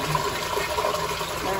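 A toilet flushing in a Japanese apartment, a steady close rush of water running throughout with a person talking over it.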